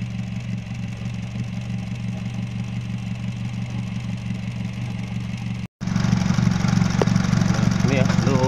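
A Honda Jazz engine idling steadily with an oil leak under inspection, a constant low hum close by that cuts out briefly, then returns louder with a mechanic talking over it.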